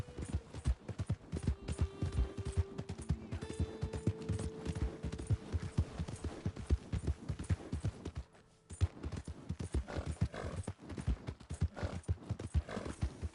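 Horse hooves clip-clop in a steady trotting rhythm through Red Dead Redemption 2 game audio, with a brief whinny and sustained background music tones, the hoofbeats loud and close for most of the stretch with a short pause near the end.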